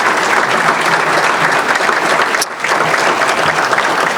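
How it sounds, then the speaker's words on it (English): Loud, close audience applause for board members, a dense continuous wash of clapping with a brief dip midway and no speech. "Let's give a round of applause to those that are serving on the board."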